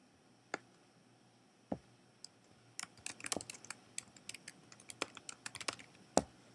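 Keys on a computer keyboard tap in scattered bursts while text goes into a PowerPoint text box, sharp close clicks, sparse at first and then quicker and denser, with no talking.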